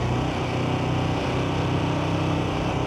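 A KTM Super Duke 1390R motorcycle engine running at about 3,000 RPM while riding, a steady, even drone throughout with no talk.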